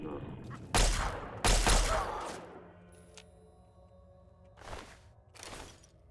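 Gunfire in Fallout 3: two loud, close shots in quick succession, then a quieter stretch and two softer shots near the end.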